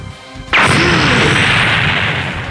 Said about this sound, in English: explosions are seen rushing all down the cityscape in a straight line